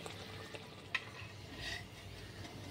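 Moong dal kachoris fry in oil with a soft, steady bubbling sizzle, marked by one brief clink of a utensil early on; fairly quiet and close, with no speech.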